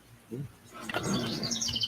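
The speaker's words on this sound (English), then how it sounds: "That's a live bird, eh, Dad? It's right there, the little guy. Right on the end of the twig there." A small live bird perched on the end of a twig gives a short burst of high chirps and tweets, near and fairly faint over low background noise, lasting under two seconds.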